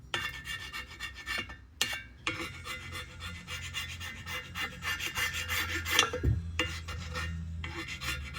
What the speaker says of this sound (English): Just scraping off any of that old aviation